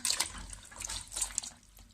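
Water splashing and running in a kitchen sink as stuffed vegetables for dolma are dropped into cold water, a steady close wash of liquid with small splashes.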